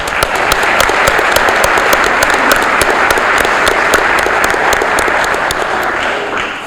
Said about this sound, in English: A round of applause for our color guard